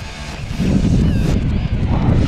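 Cold wind gusts across a riverbank during bank fishing, a steady low rumbling buffet against the microphone that swells after a moment and holds, with no voices.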